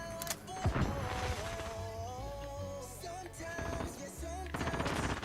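Rapid gunfire from a first-person video game shooter, bursts of automatic fire layered over game music and effects, loud and dense throughout with brief pauses between volleys.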